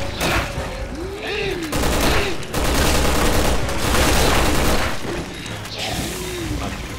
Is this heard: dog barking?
no